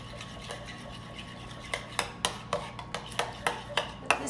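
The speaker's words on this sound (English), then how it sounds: "So I'm just going to mix this together." A utensil stirs melted cream cheese batter for a lemon pound cake in a bowl, a quiet string of soft, regular scraping taps that grows steadier toward the end.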